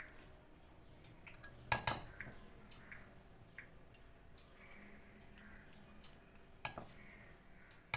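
A knife works through pieces of ripe mango, with a few faint scrapes and two short metallic clinks of the blade against a dish in a quiet kitchen, no talking.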